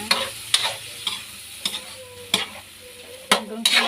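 Upo (bottle gourd) sautéed with Argentina corned beef is stirred in a pan, with repeated scraping strokes of a spatula over a soft sizzle, a rhythmic series of close, crisp scrapes.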